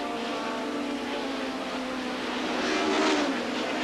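BTCC touring cars from the 1991 season, including a front-wheel-drive Cavalier and a rear-wheel-drive BMW, race through the Luffield double right-hander at Silverstone. Their engines make a continuous, loud roar with a rising pitch near the end, and no one speaks.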